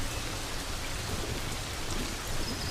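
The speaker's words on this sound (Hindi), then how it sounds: "सूखी घास पर पानी की बूंदें पड़नी शुरू हो गई हैं।" Raindrops fall on dry grass in the Serengeti, a dense, steady patter of rain heard close and loud throughout with no pauses and no talk.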